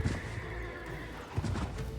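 Horses whinny and their hooves clip-clop in a combat scene of the fantasy strategy game Age of Wonders 4. The sound is brief and fairly close, with two clear bursts over a steady game background.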